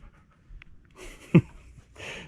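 A dog named Ace pants in short, breathy bursts at close range, with a brief sharp knock midway and pauses of quiet between the breaths.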